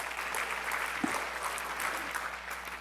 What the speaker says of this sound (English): A big round of applause for his team.